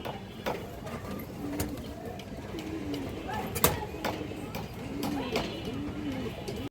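Pigeons coo repeatedly at a pigeon farm, soft rolling calls recurring over a background of farm noise, with a sharp knock midway and a person talking.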